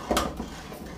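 A spoon stirs sugar syrup with opened cardamom pods in a pan for bread gulab jamun, giving one soft scrape and clink up close, followed by quiet room tone.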